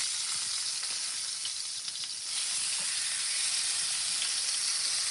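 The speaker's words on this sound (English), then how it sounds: "I just want to pan sear it on each side." Meat sears in a hot pan at a home dinner stove, giving a loud, continuous close sizzle and hiss that holds steady throughout with faint crackles.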